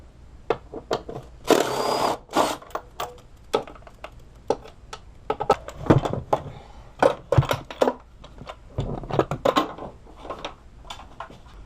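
Ratchet clicking as three 8mm battery tray bolts come out beside a Ford 5.4L engine, quick irregular ticks and short bursts, with metallic clinks, close and moderately loud.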